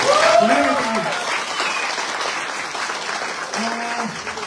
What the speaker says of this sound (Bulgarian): Скъпи приятели, малко аплодисменти за Орлин Павуков.